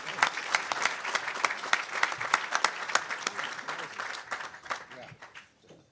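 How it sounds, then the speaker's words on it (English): An audience claps for Terry Duffy at a talk on making Chicago a financial center, a lively round of many hands that swells and then tapers off toward the end. "Let's have a round of applause for Terry Duffy"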